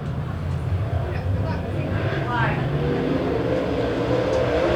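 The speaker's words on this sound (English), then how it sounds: "Green flag goes on heat race number 1. Field rifles to the opening set of turns." Super late model race cars take the green flag for a heat race at Springfield Raceway, a blended engine roar rising as the field accelerates toward the opening turns, heard beneath continuous announcer commentary.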